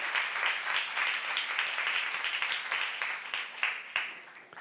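A church congregation applauds warmly during a youth service sermon, a steady dense wash of many hands clapping at moderate distance, sustained throughout and tapering slightly at the end, with no talk over it.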